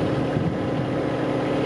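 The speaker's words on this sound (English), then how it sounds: "The tractor seems to be running okay" A Kubota B2650 loader tractor idles in deep snow, its engine a steady low hum that continues without a break, mixed with some wind noise and no speech.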